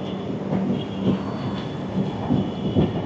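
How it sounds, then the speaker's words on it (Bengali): Duronto Express passenger train rolling into Kharagpur Junction, a steady low rumble of wheels and carriage with periodic rail-joint thumps, heard from on board. "আমরা এখন খড়গপুর জংশন ঢুকছি।"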